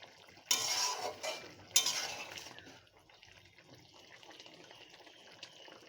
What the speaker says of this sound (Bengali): দিয়ে সুন্দর করে একটু নেড়ে দেব।